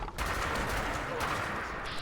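A modified radium rifle in Fallout 4 fires a rapid, sustained burst of loud automatic shots, with a brief gap early on before the stream of fire resumes.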